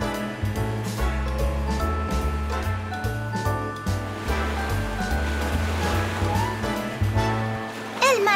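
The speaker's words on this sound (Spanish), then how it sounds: "¡El mar se está alebrestando!" Rough cartoon sea waves surge and crash with steady watery wash under a bouncy animated music score, continuous for several seconds.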